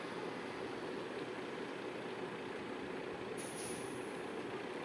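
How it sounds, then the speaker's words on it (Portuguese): Heavy rain pouring down around a truck, a steady dense hiss of falling water, constant and fairly faint, with no voices. "Que chuva."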